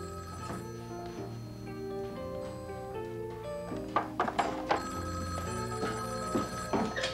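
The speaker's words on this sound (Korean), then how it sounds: "캐롤린 뜻밖의 전화를 받았어요" A telephone bell rings in a repeated, steady pattern over soft background music, with sharper bright accents in the second half.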